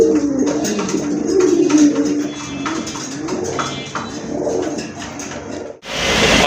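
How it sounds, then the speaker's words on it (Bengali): Domestic pigeons, including a female running pigeon, coo steadily in a loft, with repeated soft throaty calls overlapping at close range and no talking. "এটা হচ্ছে মাদি কবুতর।"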